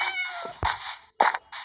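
A Minecraft cat meows in the game, several short close mewing calls separated by brief silences, with no talking.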